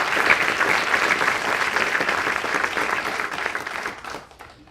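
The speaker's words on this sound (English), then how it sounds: "Can we give you a round of applause?" An audience at a medical school white coat ceremony applauds the incoming class with a full, sustained roar of clapping that fades out near the end.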